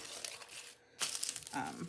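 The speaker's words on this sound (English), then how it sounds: "we'll go ahead and maybe crimple it first, because I want to just kind of play with crumpling things." Paper doily being crumpled by hand, a dry crinkling rustle that pauses briefly, then resumes in a denser burst of crackling close by.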